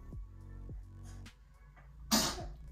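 A single sharp sneeze bursts out near the end, loud against a quiet room with a faint low hum.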